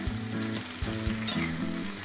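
Okra frying in oil in an open pan, a close, continuous sizzle with crackling spits and a few soft knocks of a stirring spoon.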